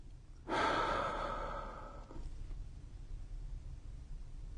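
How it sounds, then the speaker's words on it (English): One long, deep exhale through the mouth, a breathy rush that starts abruptly and fades over about a second and a half during a calm breathing exercise, near and alone, followed by quiet softer breathing. "Inhale through your nose and exhale through your mouth, releasing the breath fully."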